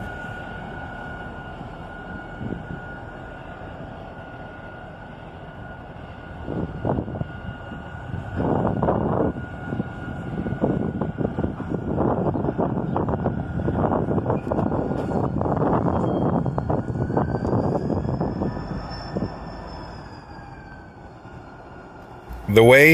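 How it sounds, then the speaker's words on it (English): A single Norfolk Southern GP40-2 diesel locomotive, running long hood forward, revs its engine in a low steady rumble that swells and holds before easing off, with a faint horn-like tone rising near the end. "The way he was revving his engine and creeping forward"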